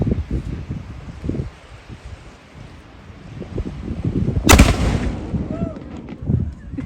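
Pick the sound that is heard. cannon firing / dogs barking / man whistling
cannon firing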